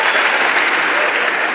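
Loud, dense applause from an audience at a training kickoff event in Rwanda, continuous hand clapping filling the whole moment evenly without pauses.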